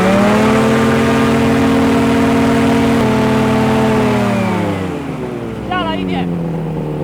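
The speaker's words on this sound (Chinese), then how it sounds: "现在测试几个全油门" Homebuilt ultralight aircraft engine run at full throttle on the ground, a loud steady droning roar that winds down near the end, leaving a quieter idle with a brief voice.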